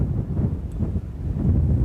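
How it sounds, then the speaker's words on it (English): Strong wind buffeting the microphone, a low constant rumble with gusty surges and no voices. "It's really rather windy."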